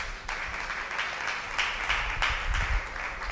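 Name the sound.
congregation applause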